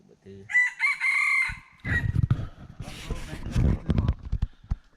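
A rooster crows loudly and close by, followed by clucking chickens and farmyard noise, with people talking underneath.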